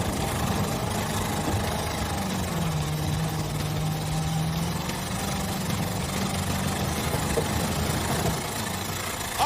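A Ford Mustang 302 V8 running rough on a dirt course, a loud, steady low engine drone close by that holds without letup.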